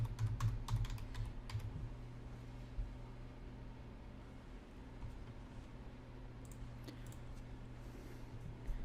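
Typing on a computer keyboard while writing an email, with soft rapid key clicks in uneven bursts over a steady low hum from nearby equipment.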